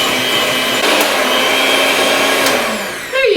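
An electric hand mixer beats a gingerbread dessert dip, a steady loud motor whir running unbroken under the work, with a brief shift in pitch near the end as the beaters move.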